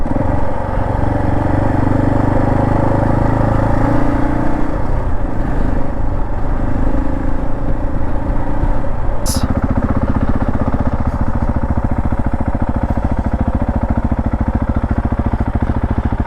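Husqvarna 701 motorcycle engine running steadily and loudly throughout, a continuous low rumble with a brief sharp high noise near the middle and no talk.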